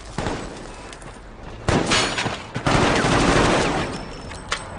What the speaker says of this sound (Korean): 빗발치는 총성으로 시작된 교전.